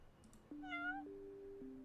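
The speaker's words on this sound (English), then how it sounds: "Cat." A single cat meows once with a rising-then-falling tone, close and clear, over a faint steady electronic hum.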